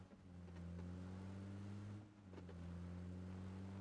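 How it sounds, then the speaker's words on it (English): A car engine in a PUBG-style battle royale hums steadily with a low, droning tone, easing off briefly midway before picking back up, heard alone without talk. "And as we can hear, we are already in a car there."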